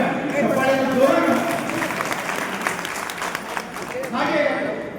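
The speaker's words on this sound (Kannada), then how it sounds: "ದಯವಿಟ್ಟು ಸ್ವಾಗತ ಸುಸ್ವಾಗತ ಅಂದಾಗ ಚಪ್ಪಾಳೆಯನ್ನು ಜೋರಾಗಿ." A hall audience at a teachers' tribute event claps in welcome, a dense continuous applause that swells, dips slightly and rises again, with voices faintly mixed in.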